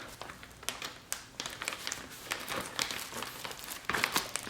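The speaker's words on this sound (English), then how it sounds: "I also put that in the envelope." Press-on nail kit items such as glue, a cuticle pusher, a mini buffer and sticky tabs being packed into a paper envelope, heard as close crinkling and rustling of paper in irregular bursts, no talking.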